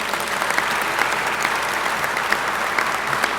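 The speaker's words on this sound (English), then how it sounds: "a round of applause for the athletic department and all that you all do" A room at a press conference breaks into a round of applause for the athletic department, with steady, dense clapping from many hands, evenly loud throughout and with no talking over it.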